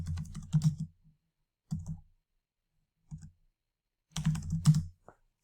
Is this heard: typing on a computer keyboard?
yes